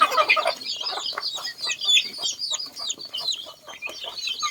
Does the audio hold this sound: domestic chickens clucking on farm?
yes